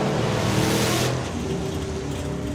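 Drag racing car at a European finals event, roaring at full throttle with a loud, dense engine blast that drops in intensity after about a second and continues as a rumbling drone.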